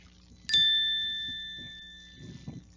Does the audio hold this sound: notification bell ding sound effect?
yes